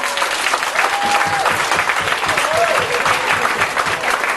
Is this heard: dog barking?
no